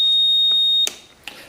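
Homemade low-primer warning alarm on a Lee Loadmaster reloading press, using an IR LED detector: a steady, loud high-pitched electronic tone sounds close by, then cuts off, followed by a couple of faint clicks.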